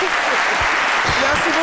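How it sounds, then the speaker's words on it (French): Brief, steady burst of audience applause at a French midday theatre gathering, dense and close, with a few voices faintly underneath. "Donc, on peut applaudir pour ça quand même."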